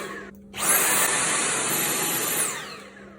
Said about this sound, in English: the air clearly gets sucked into the vacuum cleaner through the fabric